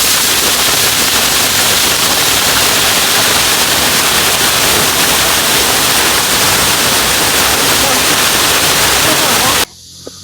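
The Romklao Paradon waterfall roars as a loud, unbroken wash of rushing water for almost ten seconds, then cuts off abruptly to near quiet.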